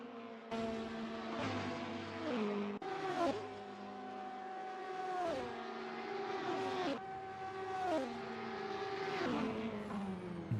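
LMP1 prototype race cars roaring around the Daytona road course in a racing video game, loud sustained engine whine with rising and falling pitch through repeated gear shifts, several cars passing close in succession.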